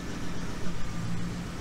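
A Triumph Stag engine with a Stromberg CD 175 carburettor idles steadily at around 800 RPM, a low, even rumble with no talk over it.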